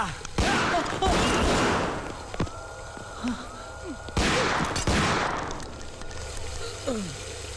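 Gunshots in a Hindi spy action thriller: several loud sharp blasts spaced over a few seconds, two heavy pairs of shots with echoing tails and metallic clangs, with faint voices in between.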